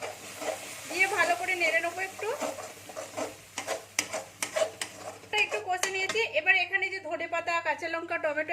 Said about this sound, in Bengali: এই মশলাটা দিয়ে আমি একটু ভালো করে একটু কষে দিচ্ছি